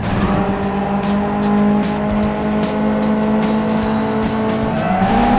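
Racing cars in the mobile game GT Racing 2 roar close and loud with continuous engine whine, squealing tires and the rising pitch of hard acceleration throughout, with no talk.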